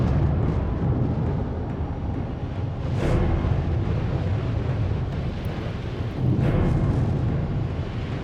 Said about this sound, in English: hearing the sounds, the booming sounds of the volcano